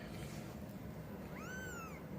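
A little brown kitten gives a single thin, rising-and-falling meow near the end, faint against a steady soft background hiss, with no talking.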